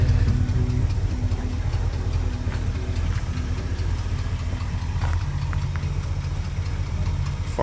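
An old farm truck idles with blown exhaust gaskets from highway driving, giving a steady, loud low rumble with a faint ticking exhaust leak running through it, no talking.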